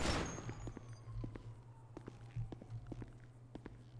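Police footsteps in GTA 5 sound as a steady run of soft, quiet steps, evenly spaced and a bit distant, over a low hum. A brief louder noise comes at the start, and there is no talk.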